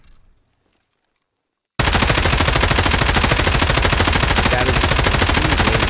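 An M4 rifle in Escape From Tarkov fires a long, loud, continuous full-auto burst on a firing range, starting abruptly after a brief silence and holding a rapid, even rhythm to the end.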